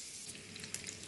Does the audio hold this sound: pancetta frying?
yes